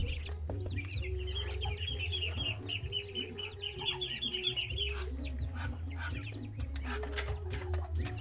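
Chickens clucking continuously while feeding on green forage, with overlapping busy clucks and chirps close by and a steady low hum underneath.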